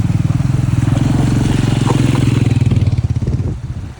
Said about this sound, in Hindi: इसके अंदर से भी हमने आराम से बाइकें निकाली